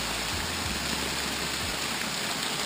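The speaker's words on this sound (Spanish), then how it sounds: "cae agua como si no hubiese un mañana." Water pours and splashes steadily inside the Engaña railway tunnel beneath a mountain, a dense continuous rushing hiss that echoes and fills the space, loud and close, with no talking.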